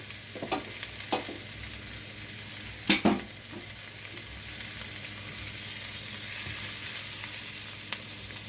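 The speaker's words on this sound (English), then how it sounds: "I'm going to throw my spinach in." Spinach sizzles in a hot frying pan with eggs nearby, making a steady close hiss with a few clattering stirs and one louder scrape partway through.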